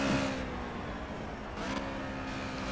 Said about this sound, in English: Nice sound to the engine as well.